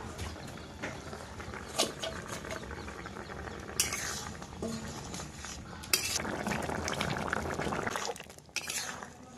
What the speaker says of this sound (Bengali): তরকারি বন্ধুরা ফুটে উঠেছে, এবার মাছ দিয়ে দেবো।